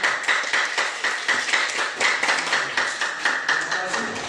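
A classroom group claps for a student team, a dense, lively patter of many hands in a quick pulsing rhythm that holds steady throughout, close and fairly loud.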